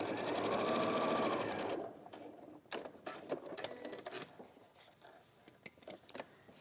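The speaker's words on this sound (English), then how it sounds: "So I'm gonna top stitch" A sewing machine top stitching fabric, running in a fast, steady close whir for under two seconds, then stopping, followed by scattered handling clicks and taps.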